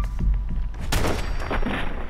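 Gunfire aimed at raiders in Fallout 4, a quick series of loud, sharp shots with booming impacts, no talk.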